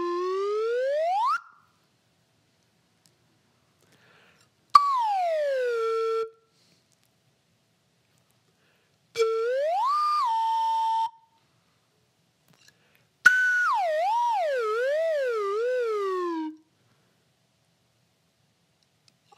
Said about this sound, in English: I'm gonna play my real slide whistle first